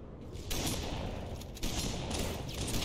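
Rapid gunfire from the video game Halo 3 runs on steadily, a dense, loud stream of shots broken by brief pauses.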